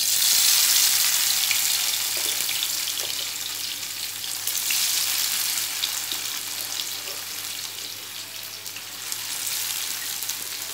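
Sliced amla gooseberries fry in hot oil for a pickle, giving a loud, continuous crackling sizzle that stays fairly even throughout with no talking.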